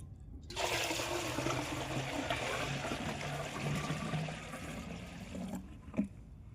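Pond water gushes into a bucket outdoors in a field: a steady, rushing pour lasts about five seconds before tapering off, followed by a brief knock. There is no talking.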